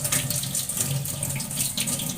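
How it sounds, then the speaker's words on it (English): Running tap water splashes steadily into a sink while hands are washed before preparing fried chicken, a continuous close stream with no talking. "First of all, wash your hand with running water."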